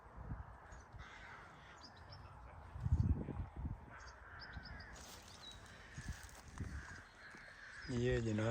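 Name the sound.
crows cawing near nests in Falkland Palace garden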